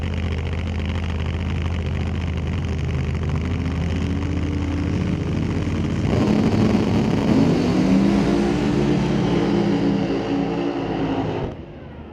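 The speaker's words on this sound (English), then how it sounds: "Then Garrett Richards winds up running it in his Pro Mod." Pro Mod drag car with a screw-blown Ford Hemi engine at a drag strip, a loud sustained engine roar that surges midway and then cuts off abruptly near the end.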